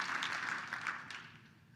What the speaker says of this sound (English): Please join me in giving Rennie a big round of applause and thanks for his work